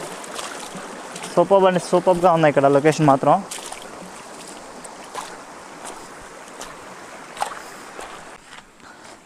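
Water flowing steadily at Rapur Waterfalls, a continuous broadband rush that carries through the whole stretch, with a voice talking over it for a couple of seconds near the start.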